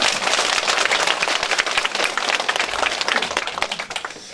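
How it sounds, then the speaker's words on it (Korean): Dense audience applause fills a community hall at a National Assembly member's constituency report meeting in Jeonju, steady sustained clapping throughout, loud and close with no talk over it. "다시 한번 박수 한번 주십시오."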